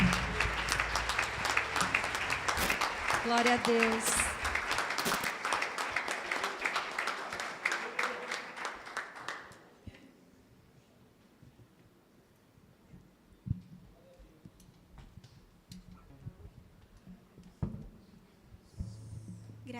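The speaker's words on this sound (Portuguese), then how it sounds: "Aplauda o Senhor pela vida da Duda" A church congregation bursts into loud sustained applause for about ten seconds, then it stops abruptly, leaving a quiet room with a brief spoken phrase and faint rustles.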